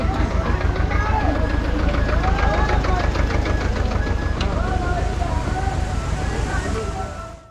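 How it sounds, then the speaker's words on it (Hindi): A tractor engine runs close by with a heavy, rumbling low-end throb and a rapid knocking pulse, holding a steady loud level before tapering off in the final moment. "ये है ट्रैक्टर की पावर।"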